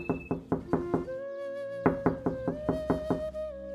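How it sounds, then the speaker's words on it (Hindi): A cartoon door gets knocked on in bursts of rapid raps, several quick knocks, a pause, then another round, with a tonal musical backing underneath. "तभी कुछ समय बाद दरवाजे पर खटखटाने की आवाज आती है।"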